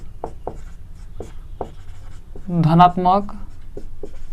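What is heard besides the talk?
writing on a board while solving maths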